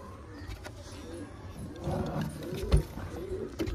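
Pigeons cooing inside a wooden pigeon box, soft low coos under quiet background noise, with a brief thump partway through.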